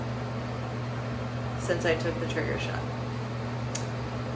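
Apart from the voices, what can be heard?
electric fan running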